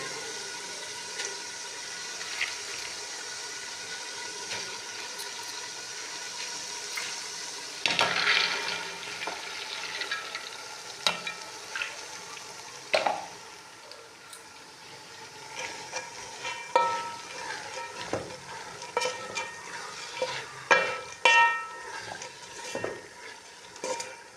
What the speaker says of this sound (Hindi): मोंगरे मैंने डाल दिए, इसको छोड़ते हैं पकने के लिए।